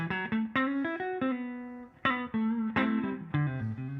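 A clean electric guitar plays a quick phrase of single notes and chords through the clean channel of an amplifier, bright and undistorted, with notes ringing briefly.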